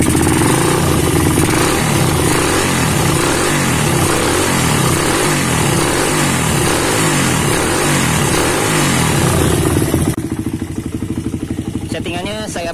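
A motorcycle fitted with a PWK 34 carburetor revs in short repeated blips at home, loud and close with a rough, pulsing idle between bursts, settling to a lighter idle near the end.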